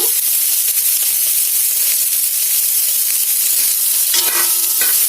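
Radish pieces sizzle loudly in oil in a pan as they are stirred to brown. The hiss is steady and close, with a few clinks of the utensil near the end.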